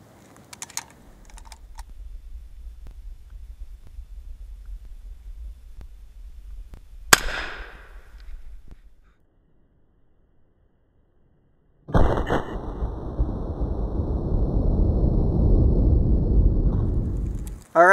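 A single sharp SKS rifle shot cracks out partway through as it is fired at a combination lock, after a low steady rumble, followed later by a loud, sustained broadband rush.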